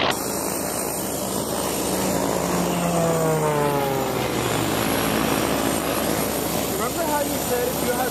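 A Yak propeller plane makes a fast flyby at a Mustang air show, its loud engine drone sweeping past with a falling pitch, and people talk through it.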